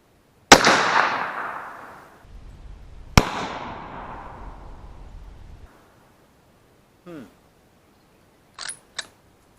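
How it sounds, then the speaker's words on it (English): A 1912 Winchester 1895 rifle fires two loud, sharp shots a few seconds apart outdoors, each with a ringing echo that trails off, followed by a few faint mechanical clicks. "First shot."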